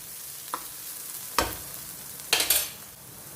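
Onion paste roasting in a pan hisses softly and steadily at close range, broken by a few sharp scraping strokes of the spoon, the loudest two coming near the end.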